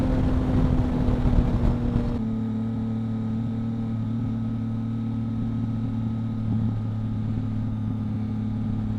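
A Yamaha MT-09 motorcycle being ridden, its engine holding a steady droning hum with a shift in tone early on, then a constant tone under wind buffeting.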